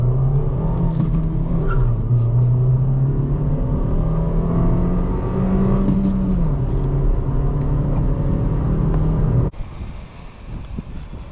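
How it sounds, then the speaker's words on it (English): A 2020 Nissan Versa S with a 1.6-litre engine and manual gearbox pulls hard from a launch, its engine droning steadily and rising in pitch through the revs, with a dip near the end as the load changes, loud and close over wind noise. "this car is a whole different challenge to launch"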